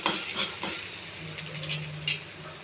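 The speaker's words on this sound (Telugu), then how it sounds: "ఇవన్నీ కొంచెం దోరగా వేగించాలి." Mustard seeds, chana dal and ginger pieces frying in oil for semiya upma, a bright continuous sizzle with a few soft stirring scrapes and light pops, close and moderately loud.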